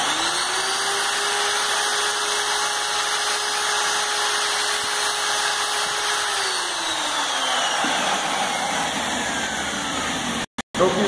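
A power drill with a drill bit bores holes to fit a hose, running as a loud, steady high whine near the mic that winds down toward the end before a short clatter.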